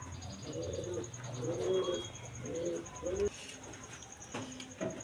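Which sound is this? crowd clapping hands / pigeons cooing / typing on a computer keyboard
pigeons cooing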